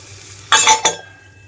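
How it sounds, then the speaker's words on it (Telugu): A brief metallic clatter as a lid drops onto a cooking pot, two quick knocks close up, then quiet. "రెండు నిమిషాల పాటు మూత పెట్టేస్తున్నాను"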